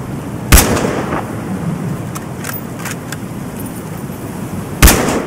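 Gunfire in the video game Battlefield Hardline: two sharp, loud shots about four seconds apart, with a few fainter pops and clicks between them over a steady background hum.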